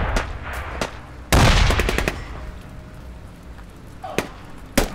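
Gunfire in the video game Squad, sharp single shots and a loud burst near the middle, spaced irregularly over quiet background, close and punchy.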